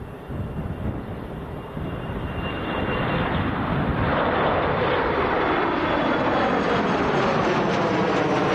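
A Loganair airliner at Manchester Airport produces a loud, steady engine roar that swells over the first few seconds and then holds, with no voices.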